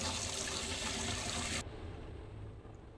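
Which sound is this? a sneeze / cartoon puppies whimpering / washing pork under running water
washing pork under running water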